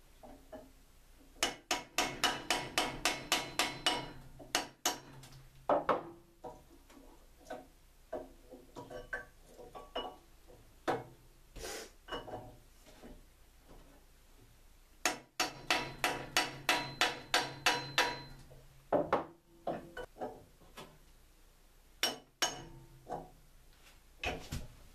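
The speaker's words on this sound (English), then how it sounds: "I'm going to take my brass drift and I'm just going to gently pound on the yoke to loosen her up" Brass drift pounded against the pinion yoke of a Dana 44 axle, heard as two quick series of sharp metallic taps close up, with scattered single knocks and short pauses in between.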